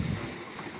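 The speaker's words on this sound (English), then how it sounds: "Let's get this sloshing around here to mix the POR15 and the water." Brief, faint watery swish of POR15 sealer and water sloshing inside a Mazda RX3 fuel tank being rocked, a soft wash of noise with no talk.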